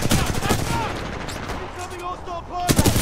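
Gunfire in the video game Titanfall 2: sharp shots crack at the start and again near the end, surrounded by busy game sounds and some voice-like tones.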